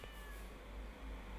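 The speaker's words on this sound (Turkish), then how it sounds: "Sanırım başıboş bir kedi" A stray cat in the Stardew Valley video game gives a short, soft meow over a steady background hum.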